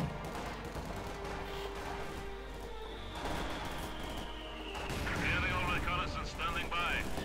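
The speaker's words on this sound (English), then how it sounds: "Mortar gun hitting the conscripts in the building." Mortar shells burst against a building full of infantry in the strategy game Company of Heroes 2, heavy battle rumble and scattered impacts under a commentator's continuous talk.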